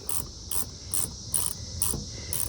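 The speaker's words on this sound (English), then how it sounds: "So you just go in, screw all 4 in and torque them down" Ratchet clicks in a regular rhythm as drive shaft bracket bolts are screwed in and torqued down on a second-generation Chevy Colorado or GMC Canyon, close and steady with no talk.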